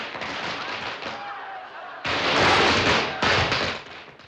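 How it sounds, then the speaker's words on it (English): Crackling bursts of firecrackers at a Chinese celebration, a dense rattle followed by louder clustered pops, heard from a distance with a muffled, echoing quality. "Firecrackers, more likely."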